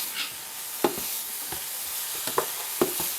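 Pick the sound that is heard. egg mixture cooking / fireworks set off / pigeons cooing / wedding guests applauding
egg mixture cooking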